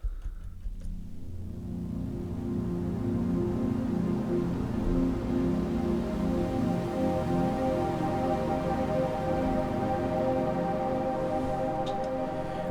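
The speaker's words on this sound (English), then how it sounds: "This is a very beautiful patch by a Luftroom soundset, and it uses 2 different sample layers and also 1 layer of the waveform engine" An ambient synthesizer patch from a Luftrum soundset, built from two sample layers and a waveform-engine layer, swells in and holds a warm, sustained chord of layered tones that stays smooth and steady.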